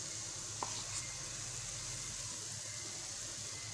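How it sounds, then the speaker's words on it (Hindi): Besan bhalla batter frying in hot ghee, a quiet, steady sizzle with a faint splash or two as a spoonful drops in, no talk over it. "तो अब भल्ले डालते हैं घी में।"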